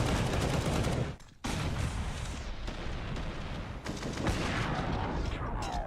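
Counter-Strike gunfire from a professional ESL Pro League match rattles in loud, dense bursts of rapid shots, with a brief near-silent gap early before the firing resumes.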